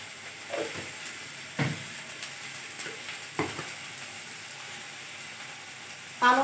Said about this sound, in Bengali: গোটা জিরা দিলাম,